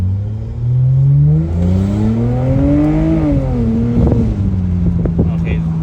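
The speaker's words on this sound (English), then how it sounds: "this one honestly has a better engine sound than the Z4" A car engine revs up and settles during a test drive, a loud droning tone that rises, peaks, then eases back, with cabin noise and faint talk mixed in.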